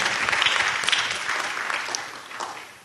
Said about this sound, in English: Give him a hand clap one more time.